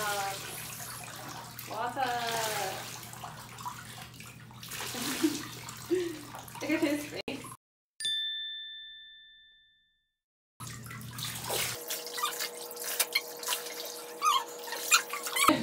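Bathtub tap running during a bath for a Miniature Pinscher, a steady rush of water under household chatter and splashing, then a sudden cut to silence with a single ding, before the water noise returns.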